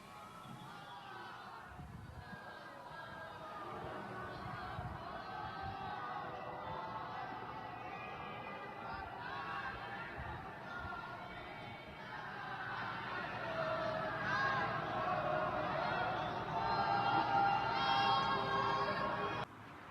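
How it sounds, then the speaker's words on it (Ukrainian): Crowds of Ukrainians chanting and singing from apartment windows on New Year's night, a distant mass of voices that swells louder toward the end, echoing between buildings. "українці співали з вікон квартир гімн і скандували Слава Україні"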